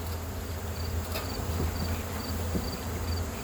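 Honeybees buzz at an opened hive being smoked, a dense, steady drone close by with a few brief knocks and clicks over it.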